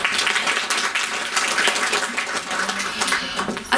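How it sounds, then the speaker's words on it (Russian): Steady, dense audience applause at an art exhibition opening, many hands clapping at an even, loud level throughout without a break. "Аплодисменты."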